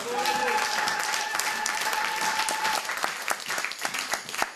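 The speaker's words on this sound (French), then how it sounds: "Applaudissons le Seigneur." A convention congregation applauds during a prophetic church service, a full, sustained round of clapping with a held tone underneath early on, thinning into scattered sharp claps toward the end.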